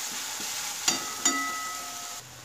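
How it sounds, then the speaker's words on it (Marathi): Green chili garlic paste sautéing in hot oil for a methi vegetable dish, a steady soft sizzle with two brief stirring scrapes partway through, close and alone. "आता या वाटणला देखील चांगलं परतून घेऊया, म्हणजे हे हिरव्या मिरच्याचं वाटण या तेलामध्ये छान उतरतं"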